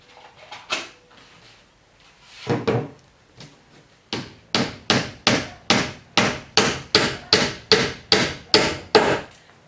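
Hammer blows drive 1-inch panel board nails into a wooden cabinet back, a few scattered taps at first, then a fast, steady series of about fifteen sharp knocks, close and loud.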